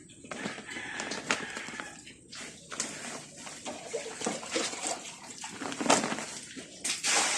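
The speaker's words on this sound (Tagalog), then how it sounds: "lilinisin po muna natin yung sahig nila dahil merong mga dumi" Water splashing and sloshing across a concrete piglet pen floor as it is washed of droppings, a steady rushing wash with uneven surges, fairly close and without talk.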